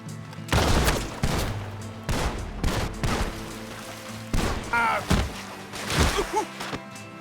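Gunfire in Red Dead Redemption 2 during a dramatic showdown, several loud booming shots spread through the clip with echoing tails and scattered thuds, a voice briefly heard between them.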